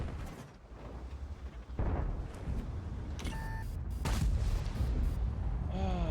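A tank gun fires in the World of Tanks video game: a couple of sharp, heavy booms with rumbling tails over a constant engine-like drone, plus a short electronic tone and a ricochet-like whine near the end.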